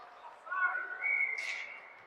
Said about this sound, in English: And we have a whistle for an offside.